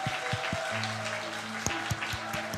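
A church congregation at a Sunday worship service and charity concert applauds together, a moderate burst of clapping with a few sharper individual claps, heard from within the hall.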